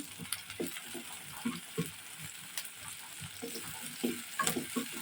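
A garlic cube fries in a pan at the start of a ridge gourd curry with prawns, giving a soft sizzle broken by light stirring scrapes and clicks, close and fairly quiet, with no voices.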